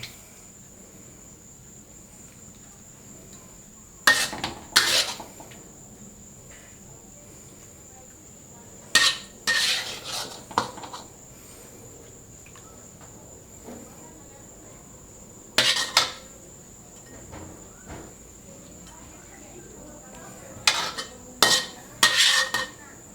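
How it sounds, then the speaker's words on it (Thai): Seafood gravy ladled over noodles on a plate for Thai rad na talay, heard as several short bursts of ladle and dish clinks separated by quiet pauses, close by, over a steady high insect-like whine. "เราก็ตักน้ำราดลงไปเลยครับ"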